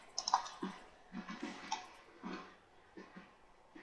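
Scattered keystrokes on a computer keyboard, a few quick clicks followed by irregular soft taps, faint and close in a quiet room.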